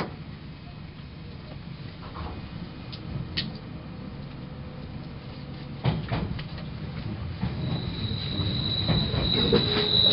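An Odakyu Romancecar express train rolls along with rumbling wheels and occasional squeals and clunks, the sound gradually building louder as it slows into Shinjuku terminal.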